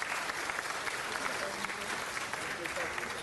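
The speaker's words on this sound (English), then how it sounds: "Let's give them another round of applause." Steady applause fills a city council meeting chamber, a dense, even patter of many hands that holds at a moderate, somewhat distant level throughout, with faint voices mixed in.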